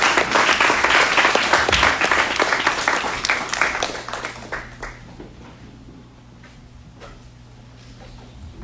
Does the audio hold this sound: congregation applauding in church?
yes